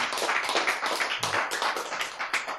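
Audience clapping during a lecture, a brisk, dense patter of many hands close by, steady and continuous throughout.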